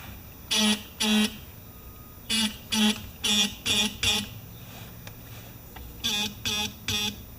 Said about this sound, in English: Ultimately cool, and both have buzzers.